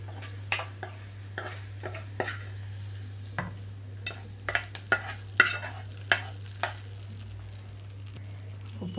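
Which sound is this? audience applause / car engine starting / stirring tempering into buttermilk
stirring tempering into buttermilk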